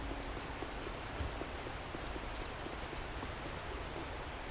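Rain falls in the video game 7 Days to Die, a steady, even hiss of drops on surfaces with faint scattered pattering, continuous and moderately quiet, with no voices.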